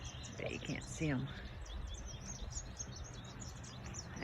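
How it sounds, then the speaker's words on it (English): Small songbirds such as robins and finches chirp and trill outdoors along a wooded hiking trail, a few bright calls close by in the first seconds, then fainter twittering over steady wind and background rustle. "I could just sit here and listen to these birds all day."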